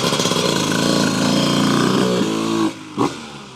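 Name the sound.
1997 Honda CR125R motorcycle engine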